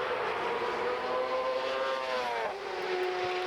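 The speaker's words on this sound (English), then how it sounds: "Bikes sound really gnarly too, though. It's like a higher pitch than like a car." A Suzuki superbike passes at speed on the autobahn, its high-pitched engine whine holding steady and then dropping in pitch as it goes by, loud against constant road and wind noise.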